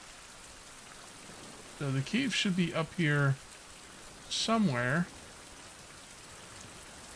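Steady rain falls in the survival video game Survival: Fountain of Youth, a constant soft hiss of drops on surfaces under a man's speech.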